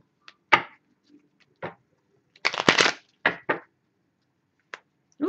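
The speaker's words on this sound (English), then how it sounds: "I feel I need a new shuffle." Tarot cards being shuffled during a reading, heard as a handful of sharp, scattered riffling bursts separated by quiet gaps, close and fairly soft.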